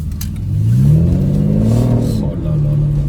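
An Aston Martin DB9 Mansory's engine rises in a smooth rev under light acceleration, a mid-pitched swelling drone heard from inside the car that then eases and settles, with faint clatter.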